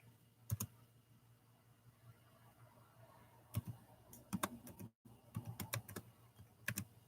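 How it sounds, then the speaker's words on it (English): Computer keyboard being typed on to enter a code, sharp isolated key clicks coming in short bursts with pauses between, close and fairly quiet over a low background hum. "Just typing in the code."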